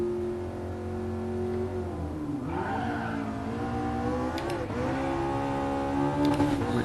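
McLaren MP4-12C (2010) race car launching off the starting grid at Suzuka circuit in Gran Turismo Sport, its engine revving hard and climbing through gears with a tire squeal midway, loud and continuous.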